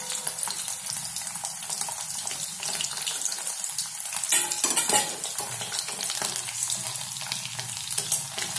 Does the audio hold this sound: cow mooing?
no